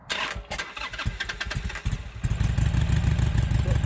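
A Harley motorcycle that had sat for nine years cranks over with a rough whirring clatter, then catches and settles into a loud, steady, close idle that carries through to the end.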